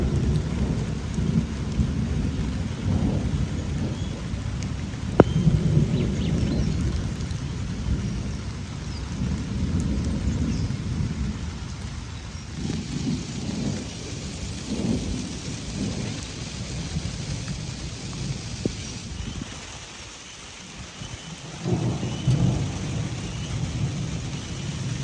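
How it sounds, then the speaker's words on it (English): A heavy thunderstorm pounds a campsite with steady, dense rain hissing on surfaces while deep rolls of thunder rumble repeatedly underneath, loud and continuous throughout with no voices. "It's been a long time since I've camped throughout a storm like this"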